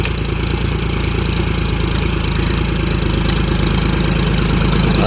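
Tractor engine ploughing a field, a loud steady low rumble running continuously with no pauses and no voices.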